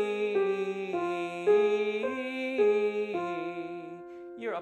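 An alto minor-key vocal warm-up pattern: a steady run of sustained tones moving stepwise in pitch, each held about half a second, clear and close with no talking.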